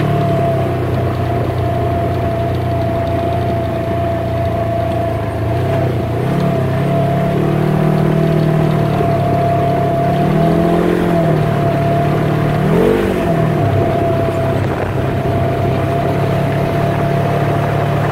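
A side-by-side off-road vehicle engine drones steadily while driving, with a constant hum and a few brief surges in revs, loud and close throughout with no talk.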